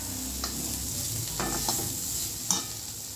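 Potato bhaji for fasting, just splashed with lemon juice, gets mixed in a pan: a soft background sizzle with a few scraping spatula strokes, close and fairly quiet, no talking.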